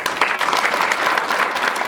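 An audience applauds steadily at a forum launch ceremony for a textiles industry sustainability forum, a dense, continuous wash of hand claps filling the room.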